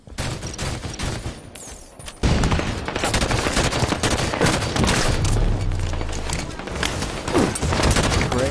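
Dense rapid automatic gunfire from the Halo 5 beta video game, loud and continuous with overlapping bursts and a booming onset partway through.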